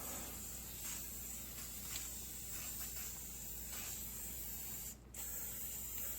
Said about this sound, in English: make sure you have the can at a nice angle, and you spray a nice even stroke